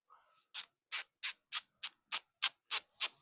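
A red Genova Mars MTB hub ratchet held close to the mic gives nine sharp, bright click bursts at a steady pace, loud and isolated against silence.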